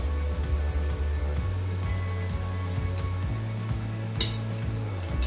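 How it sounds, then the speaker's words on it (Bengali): Balushahi sweets fry in oil over a low flame, giving a steady, close sizzle and bubbling that runs the whole time, with a brief soft clink near the end. "উল্টে পাল্টে দুটো সাইডই আমরা গোল্ডেন ব্রাউন করে ফ্রাই করে নেব।"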